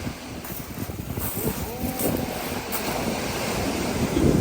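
Waves washing ashore at Konyaaltı beach under loud gusting wind buffeting the microphone, a constant roaring rush that builds slightly toward the end.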